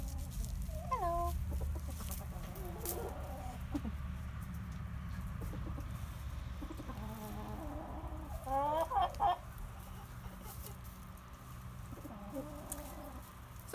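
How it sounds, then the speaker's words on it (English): Chickens cluck and make short rising calls at intervals across a farm setting, fairly faint and spread out, with low rumbling background noise underneath. "we hope you enjoyed your tour to meet some chickens"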